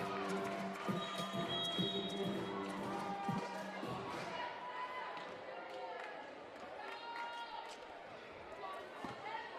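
Crowd noise at a women's basketball Final Four gold medal game after a defensive stop, with sneaker squeaks and ball bounces giving way to a broad roar, under a commentator's talk.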